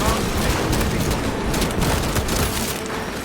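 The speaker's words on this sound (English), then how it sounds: "Frag grenade deployed." A Warhammer 40k Space Marine 2 battle against Tyranids, with a frag grenade and gunfire. A dense, continuous roar of rapid shots and blasts stays loud from start to finish, and a faint voice sits under the din.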